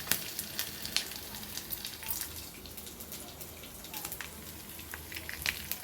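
Fried pieces dropped into simmering tamarind gravy give a steady, close sizzle with busy crackling and bubbling throughout.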